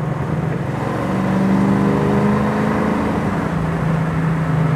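A 1968 Mustang GT S-code with a 390 V8 and 4-speed runs under load, a loud, steady engine drone with a rising and easing pitch, heard close with no talking.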